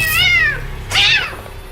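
A cat gives two clear, close meows, a longer falling cry followed by a shorter one about a second later, with quiet room hum between them and no talking.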